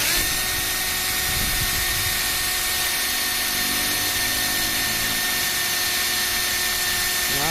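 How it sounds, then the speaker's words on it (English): A power drill drills into the pillar of a 2001 Subaru Outback, whining continuously at high speed, loud and steady throughout with a grinding edge, no voices. "take your drill bit, you know, swallow your pride and drill into your car."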